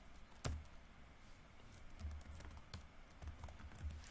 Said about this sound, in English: I'm typing the password right now.